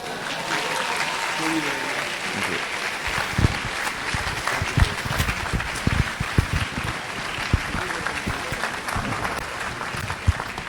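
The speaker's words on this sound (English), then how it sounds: "Shall we clap more for them?" An audience at a university congregation ceremony claps steadily for over ten seconds, a dense, even wash of applause with a few sharper individual claps standing out near the front.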